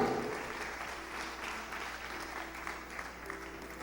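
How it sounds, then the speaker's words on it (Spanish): Congregation clapping during a church service, a steady continuous patter of many hands throughout, with a low hum underneath. "Dele un aplauso al Señor si se lo quiere dar."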